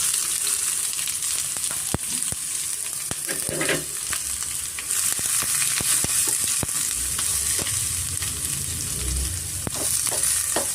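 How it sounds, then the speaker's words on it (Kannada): Sliced onions frying in oil in a pan over a medium flame, a steady close sizzle with occasional sharp crackles and stirring clicks, no voices. "ಮೀಡಿಯಂ ಫ್ಲೇಮಲ್ಲೇ ಸ್ವಲ್ಪ ನಾವು ಫ್ರೈ ಮಾಡ್ಕೊಳ್ಳೋಣ"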